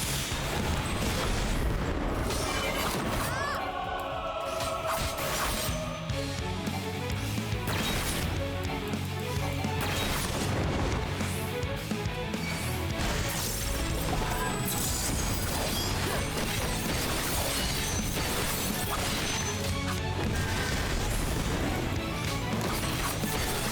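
Exploding catapult in the Final Fantasy XIV Endwalker patch 6.2 content, loud crashing booms and mechanical impacts layered over a dense, continuous game soundtrack for the whole stretch.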